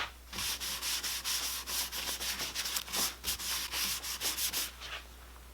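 Hand sanding of a very thin wood veneer on a cigar box guitar, a quick run of close, rhythmic rubbing strokes that stops near the end.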